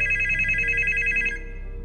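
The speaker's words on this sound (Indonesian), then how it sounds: "dia mendapatkan telepon lagi" A telephone rings with a bright electronic bell tone in one clear ring that stops after about a second, leaving a quiet hum.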